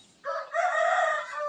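A native chicken gives a single drawn-out crowing call, close and clear with nothing else around it.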